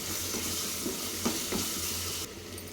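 Onions with turmeric and ginger-garlic paste are stirred in a sizzling pan for a Mysore dal and ridge gourd curry. A soft, continuous frying hiss runs under a few scraping strokes of the spoon, close and fairly quiet.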